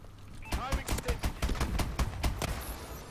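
Rapid bursts of video game gunfire from a weak weapon in an infected-mode shooter, about a dozen sharp cracks in quick succession, close and loud over a faint background hum.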